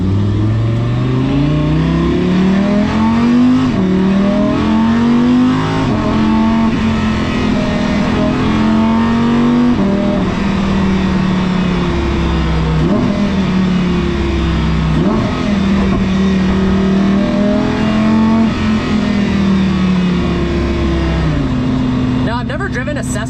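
An Audi R8 racecar drives on a public street, its engine droning loud and close with a steady, rising and falling rev tone throughout, while a voice talks over it.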